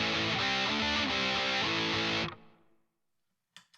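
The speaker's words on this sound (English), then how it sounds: "the Rat, like most distortion pedals, has a high frequency harsh fizzy sound" Guitar chords ring through a ProCo Rat distortion pedal, loud and thick with harsh fizzy overtones, several chord changes before cutting off abruptly into near silence and a brief faint noise.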